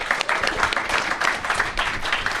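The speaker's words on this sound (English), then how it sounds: "Clap it up for all of them, please." An audience applauds a list of honourees, dense close clapping for a couple of seconds, loud and even.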